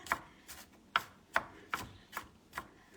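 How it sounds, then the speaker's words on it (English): Knife chopping onion on a cutting board in a steady rhythm, seven crisp close thuds spaced about half a second apart, with no talking. "Just chopping up some onion."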